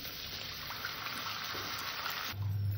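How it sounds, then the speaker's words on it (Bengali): Water pours and gushes steadily into a pan of fried-down masala for a Bengali koi fish curry in mustard-poppy paste, a broad splashing wash over faint sizzling, with a low hum entering near the end. "আমার মশলাটা কষা হয়ে গেছে, আমি এখানে এবার পরিমাণ মতন জল দিয়ে দেবো।"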